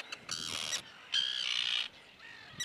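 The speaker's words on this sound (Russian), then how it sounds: "Вот меня атакуют чайки." Gulls guarding their nests by a pond squawk harshly at a person nearby, giving two or three rasping bursts of under a second each with short gaps, moderately close and with no talk.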